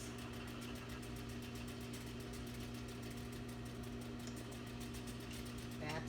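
A sewing machine runs steadily while stitching fabric along a 5/8 seam. Its hum is continuous and moderately close, with a fast, even rhythm of needle strokes throughout and no pauses.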